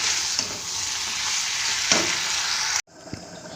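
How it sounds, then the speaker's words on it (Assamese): Local chicken sizzles and fries steadily in a pan, a dense continuous crackle with a few louder pops, cutting off abruptly near the end before a quieter sizzle resumes. "এইফালে এয়া মই প্ৰথমতে লোকেল চিকেনখিনি বনাই লৈছোঁ।"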